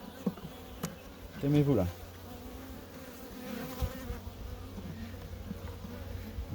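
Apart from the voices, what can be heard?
bees buzzing around a small artificial swarm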